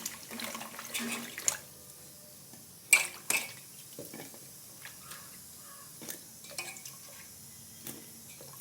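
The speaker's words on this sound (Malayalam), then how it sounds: "ഇത് നന്നായിട്ട് കഴുകിയെടുക്കാം" Chopped cucumber gets rinsed in a vessel of water, with soft sloshing and dripping punctuated by a few sharp clinks of the container, close and fairly quiet with no talking.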